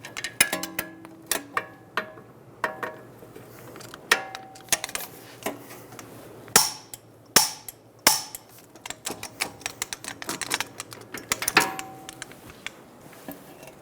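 Ratcheting clicks and taps of a torque wrench on the bottom strut bolts of a 2007-2011 Toyota Camry during front strut mount replacement, an irregular stream of quiet mechanical ticks with a few louder clacks.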